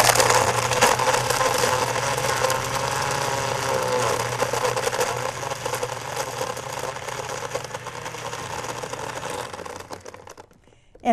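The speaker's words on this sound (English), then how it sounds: "And then you're going to run the blender." A blender blending a frozen mojito runs continuously at full power, a loud steady whirring grind that holds for several seconds before stopping abruptly at the end.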